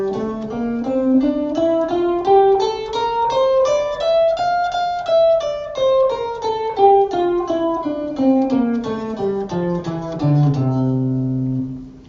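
A guitar plays a single-note lick in C Mixolydian, climbing then descending in an even stream of clean picked notes and ending on a sustained low note.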